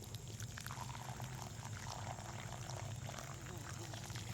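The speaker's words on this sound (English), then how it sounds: "Now I'm going to water my tomato." Water pours onto a potted tomato plant in a large container, a steady close splashing trickle that runs evenly throughout at moderate loudness.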